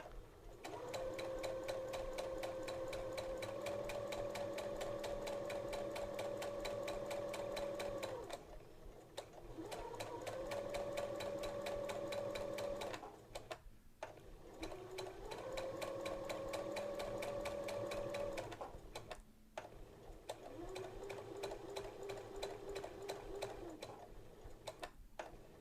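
A sewing machine stitches a hem with a narrow hemmer foot on fabric for a circle skirt or dress, running in steady bursts of several seconds each, separated by brief pauses, with a close, even whirring hum and no talking.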